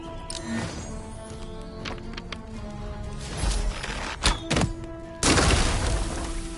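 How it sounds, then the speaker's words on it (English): A poison barrel blows up in Demeo, a few dull thuds and a cracking burst followed by a hissing wash of released gas, close and fairly loud, with no talking. "The barrel has exploded, releasing a cloud of poison gas over the surrounding area."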